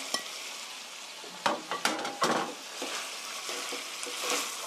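Sliced onion, carrot and cabbage stir-fried for chicken tteokbokki, a close steady sizzle broken by several sharp scrapes and clacks of a spatula against the pan.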